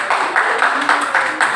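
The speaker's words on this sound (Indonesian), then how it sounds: "Tepuk tangan yang meriah." Classroom applause for classmates presenting at the front, a steady run of rhythmic clapping bursts repeating evenly, moderately loud and without talk.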